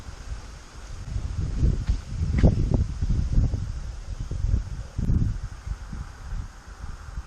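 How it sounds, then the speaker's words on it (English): Wind gusting through trees in a botanical state park in Key Largo, a rumbling, buffeting roar of microphone wind noise with faint leaf rustle, rising and falling over several seconds. "Look at this wind."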